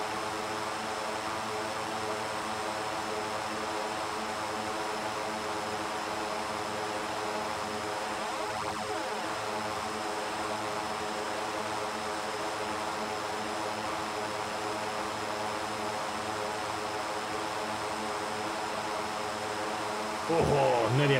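A DHC-6 Twin Otter 300 turboprop taking off in the X-Plane 11 flight simulator, its steady propeller and engine drone running continuously and fairly loud, with a brief louder burst near the end.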